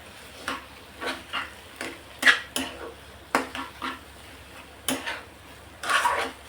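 Brinjal bharit stirred with chopped coriander in a pot, a utensil scraping and clinking against the metal in a loose series of short, close strokes, about a dozen over several seconds, with no voices.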